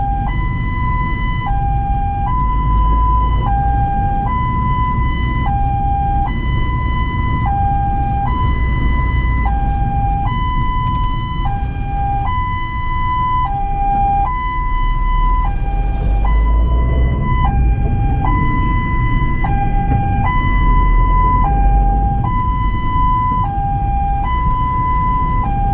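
An ambulance siren wails loudly and close in a repeating two-tone pattern, steady for the whole stretch over road and engine noise, with no voices.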